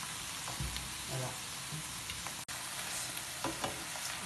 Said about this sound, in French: Je remue un petit peu ici l'oignon.